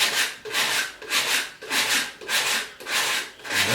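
A gourd is being worked by hand for a craft piece, giving a loud, rhythmic rasping scrape in about five even strokes, each roughly half a second, with no talking.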